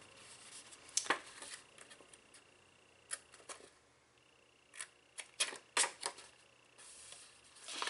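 Scissors cut straight up through patterned Stampin' Up! designer paper along score lines for a wallet-style box, a few faint, close snips and paper rustles over a quiet background.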